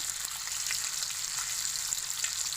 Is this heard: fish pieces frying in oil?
yes